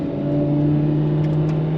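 A Ferrari F12 TDF's engine hums with a steady, strong drone while driving, revving evenly and close up with no one talking.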